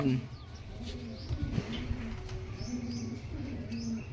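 Pet pigeons in a backyard loft coo in soft, low repeated phrases, with occasional faint chirps and light rustling close by.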